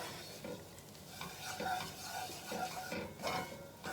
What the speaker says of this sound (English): So I'm going to move this around for a couple seconds till I can't see the white of the flour